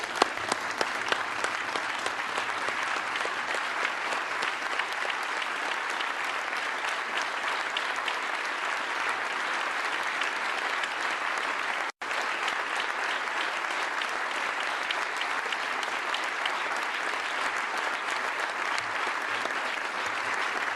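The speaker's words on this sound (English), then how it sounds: "let's give George Dennison one last round of applause here" A seated audience at a higher-education symposium applauds continuously in a final round honoring George Dennison, producing a dense, even wash of clapping that stays loud for about twenty seconds with one momentary dropout.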